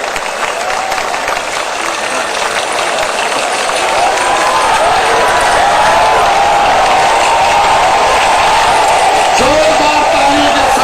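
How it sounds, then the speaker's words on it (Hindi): Applause and crowd noise at a Dussehra Ravan Dahan event in Dwarka welcoming PM Modi, a dense, loud wash of clapping from a large outdoor crowd that swells partway through, with an announcer speaking over it. "जोरदार तालियों के साथ आदरणीय प्रधानमंत्री जी का स्वागत"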